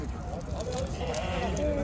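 Sheep bleating in a noisy crowd at the Torbalı livestock market, with a steady din of animals and people talking throughout.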